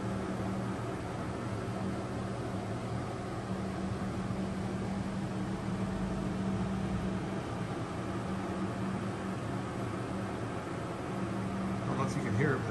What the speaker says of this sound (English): That's our humidifier,